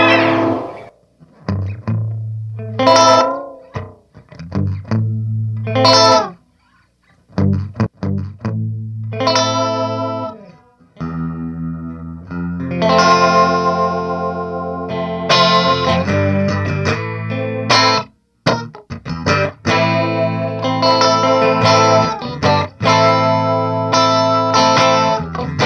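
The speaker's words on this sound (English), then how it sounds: "the delay with the time all the way down gives you like a slapback effect" Guitar notes and chords through a Thimble Wasp FX Time Lapse delay pedal set to a short slapback, a tight delay doubling each attack, played in phrases with brief pauses, loud and close.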